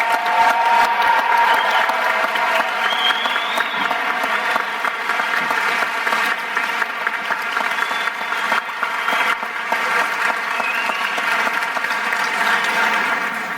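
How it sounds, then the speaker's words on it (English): A large crowd at a high school graduation applauds steadily and loudly for the graduating seniors, with dense sustained clapping and a faint musical tone running underneath throughout. "Please join me in a huge round of applause to recognize this talented group of seniors."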